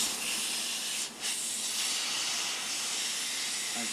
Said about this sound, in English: I'm going to use compressed air.